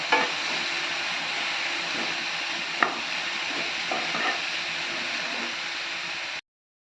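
Onion and finely chopped tomato stirred in a pan with no oil, giving a soft steady sizzle with a few scraping knocks of the spoon, and no one talking.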